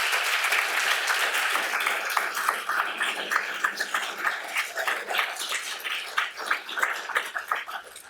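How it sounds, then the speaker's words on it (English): Applause from an audience at a talk, a sustained crowd of clapping hands that gradually thins into more separate, rhythmic claps toward the end. "we can't keep applauding too many times for Jack McNamara"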